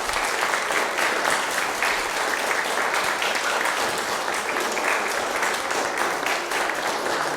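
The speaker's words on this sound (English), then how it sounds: "Quick round of applause to start us off." A church congregation breaks into sustained applause during a worship service, many hands clapping in a dense, even wash that stays strong throughout.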